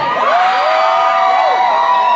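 A concert crowd in Dubai cheers and whoops continuously, with loud, sustained shouting and high voices blending into a dense roar throughout.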